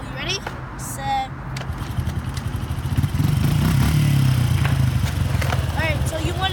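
A motorcycle engine is started and revved close by, with an uneven mechanical chatter that builds into a louder sustained run in the second half while a person talks over it.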